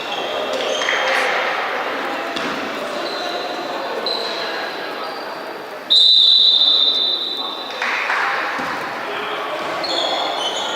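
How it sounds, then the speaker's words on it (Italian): A referee's whistle sounds at an Italian women's Serie A2 basketball game between Cus Cagliari and Nuova Pallacanestro Treviso, a sharp sustained blast cutting above steady crowd noise in an indoor arena. "Intanto arriva un fischio da parte dell'arbitro."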